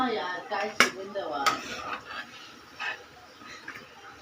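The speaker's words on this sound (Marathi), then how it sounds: "मी आता हे प्लेटमध्ये काढून घेते" Fried bhaji are lifted out onto a plate, giving a few sharp clinks of utensil on plate followed by softer scraping and tapping, fairly close and quiet.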